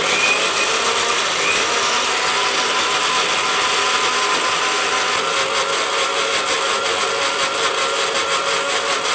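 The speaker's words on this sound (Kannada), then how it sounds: "ಮುಚ್ಚಳ ಮುಚ್ಚಿ ಪೂರ್ತಿ ಪೇಸ್ಟಾಗಿ ರುಬ್ಕೊಂಬರ್ತೀನಿ ರೀ" A mixer grinder whirs steadily as it grinds mint and coriander leaves with water into a paste, a continuous loud motor drone with no talking.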